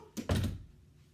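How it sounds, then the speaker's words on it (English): An indoor door shuts close by with a soft latch click and then a solid, muffled thunk that fades quickly into room quiet. "I just closed the door"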